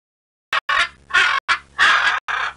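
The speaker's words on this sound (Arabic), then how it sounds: "ببغاء." A parrot calls in a rapid series of five or six loud, harsh squawks, each separated by a short gap, heard alone and close.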